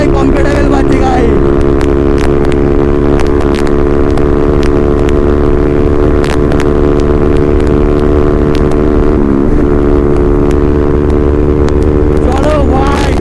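A motorcycle engine drones loud and close with a steady harmonic exhaust tone throughout the ride, pitch dipping briefly midway, with wind buffeting and occasional clicks.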